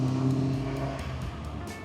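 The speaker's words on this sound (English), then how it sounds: "Oh man, this thing is such a dream to be able to drive." A first-generation Volkswagen Golf GTI with a small engine of up to 112 horsepower drives near the Nürburgring in Germany; its engine note hums steadily and close, then thins out toward the end, with no talk.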